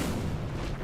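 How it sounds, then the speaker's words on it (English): A catapult exploding from dynamite in Lord of the Rings Online, a dense, loud booming blast that fills the whole moment without pause and then begins to fade. "catapult explosion number 2"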